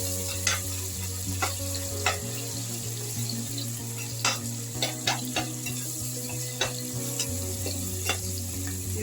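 Meal maker (soy chunk) pulao frying in a pan, a steady close sizzle with repeated scraping stirs and light clinks throughout, no talk.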